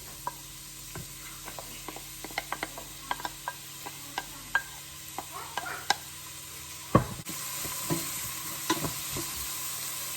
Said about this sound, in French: je vais mettre mes oignons à rissoler.